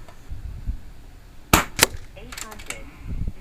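Umarex Gauntlet 25SL PCP air rifle firing FX 25.4 target pellets: two sharp, close cracks in quick succession, followed by a softer metallic rattle, over quiet background noise.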